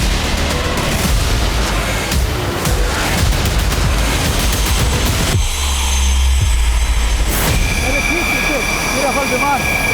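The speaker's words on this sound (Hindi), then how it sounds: "रफाल विमान लगातार उड़ान भरने के लिए तैयार है और ना सिर्फ ये विमान बल्कि इसके साथ साथ ये सारे विमान अगर आप देखें तो ये अब उड़ान भरने के लिए निकल रहे हैं।" Rafale fighter jets taxi out for takeoff at an air base during Independence Day coverage. Their loud, continuous turbine roar fills the scene, and a reporter talks over the engines throughout.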